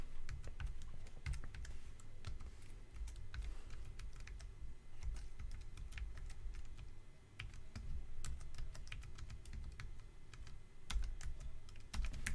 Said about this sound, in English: at this stage we now need to type in another command